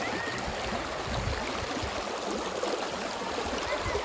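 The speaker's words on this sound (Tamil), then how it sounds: "ஆனால் தண்ணி வந்து வேகமாக மூவ் ஆகிற மாதிரி எனக்கு ஃபீல் ஆகுது." Fast-flowing stream water in Valparai rushes steadily and fairly close throughout, a continuous broadband wash with no voices.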